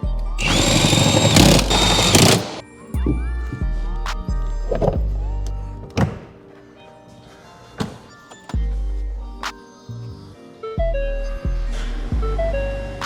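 Electric power seats in a restored 2024 Ford F-150 pickup whir in short motor bursts that stop and start, with clunks and a brief loud rush at the start, recorded up close.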